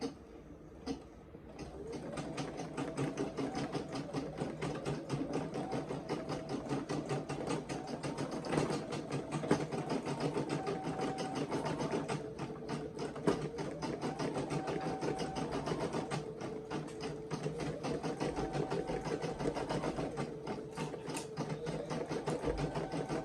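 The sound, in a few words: Brother SE1900 embroidery machine stitching bucket hat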